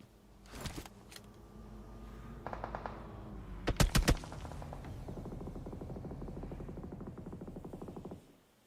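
Gunfire in a PUBG Mobile esports match: a few sharp shots, then a loud cluster of cracks, followed by a long steady stream of rapid automatic fire with some echo, moderately distant.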